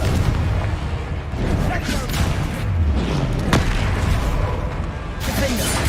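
The Confringo fire spell in Hogwarts Legacy fires off a rapid string of loud, heavy explosions and whooshing blasts, dense and continuous, with combat noise filling the gaps.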